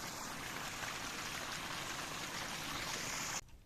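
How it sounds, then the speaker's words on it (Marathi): Steady rushing water in a farm field after rain, a strong continuous flow close by with broadband hiss, cutting off abruptly near the end. "पाऊस लागल्यामुळं असं पाणी जोरात व्हायला लागले"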